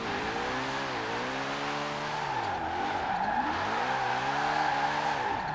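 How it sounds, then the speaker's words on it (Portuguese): Mustang Hoonigan drifting in Forza Horizon 4, a sustained roaring engine with wavering pitch swoops as revs rise and fall, layered over a continuous high tire squeal, loud and close throughout with no talking. "Agora dá pra fazer uns drift"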